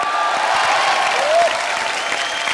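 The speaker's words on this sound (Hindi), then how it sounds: "सबसे पहले कॉमेडी नाइट बचाव के लिए जोरदार तालियां हो जाएं।" Studio audience at a comedy night show applauding loudly, a dense steady wash of clapping with a few whistles, close and sustained throughout.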